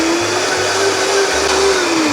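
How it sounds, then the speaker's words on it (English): Loud, close whirring roar of a Vitamix blender running on greens with orange juice, steady and continuous for about two seconds. "Blend it up."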